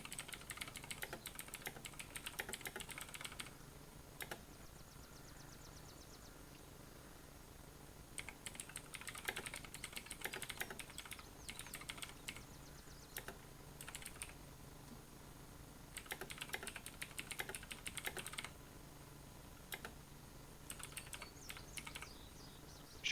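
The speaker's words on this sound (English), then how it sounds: "I heard you typing" Someone types on a computer keyboard in scattered bursts of quick clicking, separated by short pauses, fairly quiet and close, with no talking.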